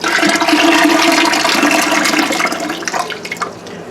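Water pours steadily and loudly into an All American pressure canner, a continuous splashing gush that tapers off toward the end, with no voices.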